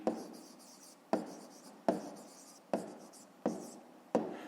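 Pen writing by hand in a notebook during a 5th-grade maths exercise, heard as six regular scratchy strokes, each starting with a sharp tap and fading, close and alone with no talk.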